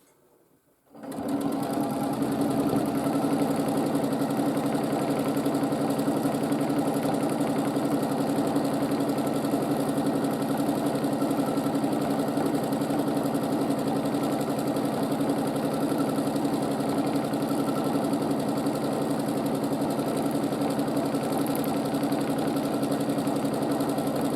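A domestic sewing machine doing free-motion quilting on a Drunkard's Path quilt runs a steady, loud, continuous motor whir with a rapid needle chatter, starting after a brief silence and holding unbroken throughout, with no talking.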